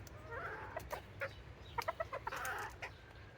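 Chickens clucking in a backyard chicken run, soft scattered clucks and short calls in a quick irregular run, fairly close but quiet against a calm outdoor background.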